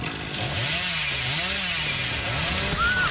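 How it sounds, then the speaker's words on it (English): Chainsaw revving in the video game Dead by Daylight, a loud, continuous motor drone that rises and falls in pitch throughout, with a brief high whine near the end. "Okay, that was a false chainsaw for some reason."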